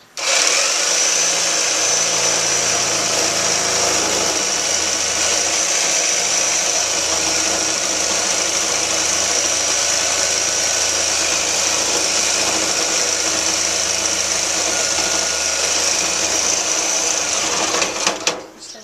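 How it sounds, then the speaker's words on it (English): Power tool cutting through the metal frame of a Streaker go-kart right beside a weld, a steady, loud, continuous whine and buzz held for nearly the whole stretch before cutting off at the end, with no talk over it. "I'm gonna cut as close as I can to the weld, and try to get it as straight as possible"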